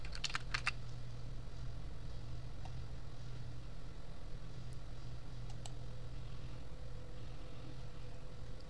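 A computer keyboard is used to type a URL, with a quick burst of clustered keystrokes at the start and a few scattered faint clicks later over a low steady hum.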